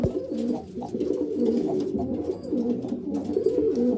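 A pair of Punjabi Malwai pigeons coo steadily in a coop, with several overlapping low, throaty coos rolling continuously through the whole stretch, fairly close and moderately loud with no talking.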